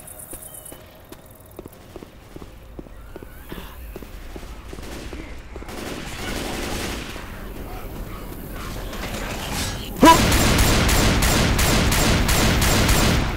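Gunfire in the zombie shooter Left 4 Dead 2, first as a steady series of single shots, then a loud, dense burst of rapid automatic fire near the end, with no talk over it.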